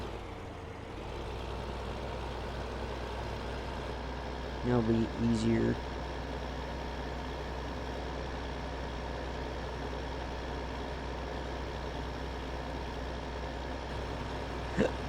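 A truck engine in a farming video game idles with a steady low hum throughout, with a short hissing burst midway and someone talking briefly over it.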